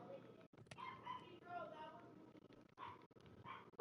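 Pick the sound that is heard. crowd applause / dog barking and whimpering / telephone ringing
dog barking and whimpering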